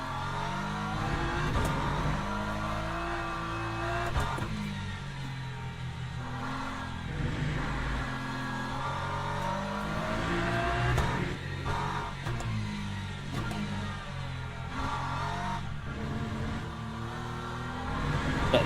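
Race car engine in Le Mans Ultimate droning steadily through laps, revving and shifting in continuous layered tones with no talking.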